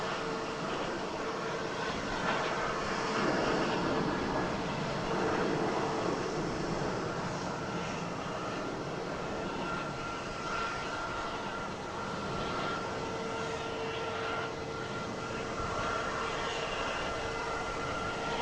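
A Lufthansa airliner at Boston Logan airport gives off a steady, distant engine rumble and whine that holds for the full length, softly swelling and fading against open outdoor air.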